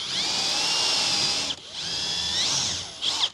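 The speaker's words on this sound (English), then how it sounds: "I'm just using that hole as a guide for my drill bit, and I'm just drilling through" A power drill whines steadily at high speed drilling through wood, pausing briefly twice before spinning up again, close and loud with no talking.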